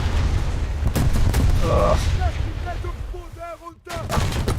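An automatic German 37 mm naval gun fires in a warship video game, a burst of booming rapid shots with ringing tonal effects, with someone talking over it.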